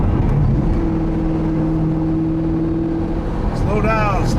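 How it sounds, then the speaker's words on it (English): White 2006 Ford GT with a 5.4-liter supercharged V8 pulling uphill in fourth gear, a loud close engine drone holding a steady tone, rising toward the end, with voices talking over it. "let's see if we can get it in fourth gear"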